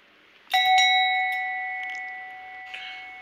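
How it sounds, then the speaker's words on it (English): A single bell chime strikes once, loud and clear, with a bright tone that rings on and slowly fades over a few seconds. A faint rustle comes near the end. "You'll know it's about that time when you hear the bell chime."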